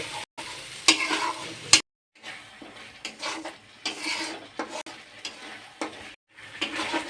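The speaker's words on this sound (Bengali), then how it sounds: "এখন আমি সর্ষে বাটা তেলে দিয়ে দেব কিছুক্ষণ আমি কষিয়ে নেব" Mustard paste frying in hot oil for a Bengali okra dish, sizzling in bursts as a spatula stirs and scrapes the pan close up, with short silent breaks between strokes and no talking.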